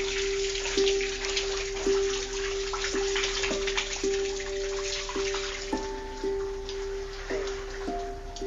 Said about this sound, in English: That's not a leak, it's a little bit like that, drip, drip, drip.